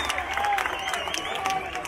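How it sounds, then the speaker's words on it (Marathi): Crowd applause and cheering for a women's dahi handi troupe at an outdoor festival event in Kankavli, a steady dense clatter of many hands with a bright whistle-like tone cutting through. "जोरदार टाळ्या त्यांच्यासाठी"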